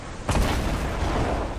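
A single loud blast of gunfire in Fortnite, followed by a sustained rumbling roar of debris or explosion that fills the rest of the moment, heard up close.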